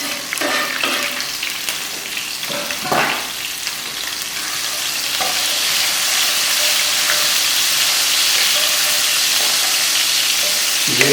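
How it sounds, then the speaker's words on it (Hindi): Cumin seeds and chopped chillies sizzle steadily in hot oil while aloo ki bhujia is made, a continuous close frying hiss with a few stirring clinks, no talk. "जैसे ज़ीरा हमारा कड़कड़ाएगा, तो हम सब मिर्च डाल देंगे जो हमने बड़ी काटी थी"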